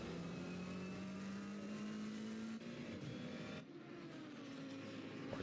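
A yellow Ferrari GT3 race car's engine in Assetto Corsa Competizione at the Nürburgring drones steadily, its pitch climbing slowly before two quick shifts, with no talking.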